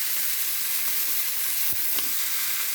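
Green banana pieces go into a pan of browned fried fish for a fish curry, under a steady, close sizzle and hiss of hot oil, with a brief soft clatter partway through.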